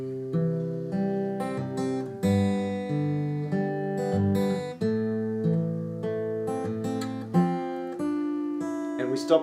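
Acoustic guitar plays the post-chorus of a song in a fingerpicked arrangement, a steady run of clear plucked notes and chords with a few sharp attacks, close and solo with no voices.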